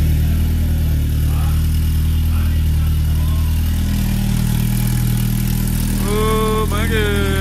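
A turbocharged KA24 engine runs with a loud, steady exhaust drone up close, its low rumble constant throughout and a rising whine or rev appearing near the end.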